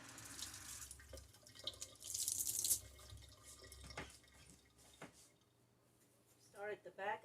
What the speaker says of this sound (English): Rinse off your sponge if you need to, or your scrubber.